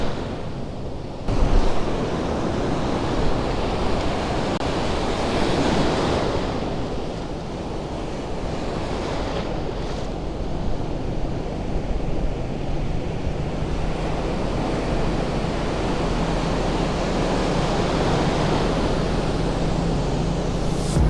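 Ocean surf washes steadily onto a beach, a continuous roar of breaking waves with a sharper crash near the start, wind buffeting the microphone throughout, no voices.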